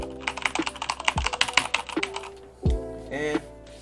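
Rapid bursts of typing on a mechanical computer keyboard, crisp clustered key clicks up close with brief pauses and a couple of heavier thuds.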